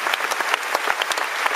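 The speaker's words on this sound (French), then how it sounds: "On les applaudit très fort." Audience at the Francofolies festival in La Rochelle clapping enthusiastically for Christophe Willem's thank-you and bow, a dense, lively stream of individual claps close to the microphone with no speech.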